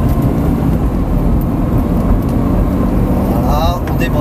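A Lamborghini Gallardo accelerates hard on the Folembray race circuit during a sprint driving course, a loud steady engine roar heard from inside the car with continuous heavy rumble and no pauses.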